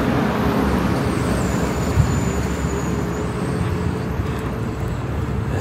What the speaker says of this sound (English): It's like the loudest car too. It's just so noisy and squeaky.